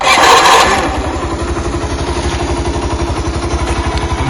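Honda Super Cub Custom motorcycle engine starting with a short burst of cranking noise, then settling into a rapid, even idle chug, loud and close with no talking.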